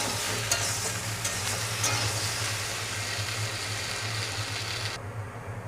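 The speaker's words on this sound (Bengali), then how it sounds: "কচুমুখিটাও এগুলোর সাথে ভালোভাবে ভেজে নেব" Pre-boiled taro roots fry in a pan with other ingredients while being stirred, giving a steady sizzle with scraping stir strokes under a low background hum, fairly quiet and with no talking.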